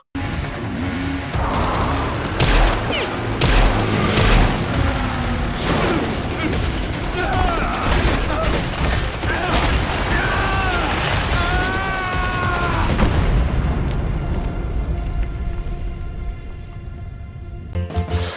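Pistol gunfire in the video game Resident Evil Requiem: sharp, repeated shots within a loud, dense game mix of mechanical clatter, booms and music, with voices heard throughout.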